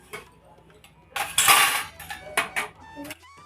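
Metal offering utensils for a Laddu Gopal shrine clinking and clattering as they are handled, a few sharp close clanks and rattles in quick bursts against a quiet room, with no talking.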